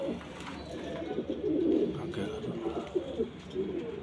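Pigeons cooing in a low, steady stream, with several soft overlapping coos close by and rising briefly in the middle; the male and female are a Punjabi kabutar pair.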